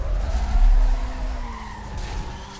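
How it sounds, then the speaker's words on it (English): Mazda Furai race car drifting through a low-speed corner in Need for Speed: Most Wanted, a steady engine drone with tire skid and squeal running throughout, loud and close. "in low speed corners, it likes to start drifting a little bit"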